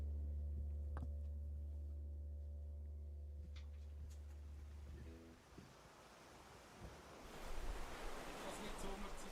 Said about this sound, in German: Meeresrauschen